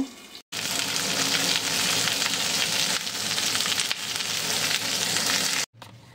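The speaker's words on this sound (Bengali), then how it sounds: "দেখো আলুগুলো ভালো করে ভেজে নেব এবার" Potatoes fry in a pan with a loud, steady broadband sizzle that runs unbroken for about five seconds, cut off by brief silences at the start and end.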